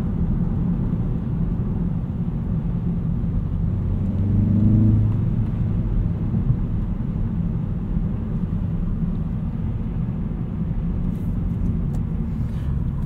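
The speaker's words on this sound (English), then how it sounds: "Put its power down pretty well under hard acceleration going around a turn." A 2016 Hyundai Veloster Turbo Rally Edition accelerates hard through a turn, heard from inside as a steady low engine drone and road rumble that swells briefly midway.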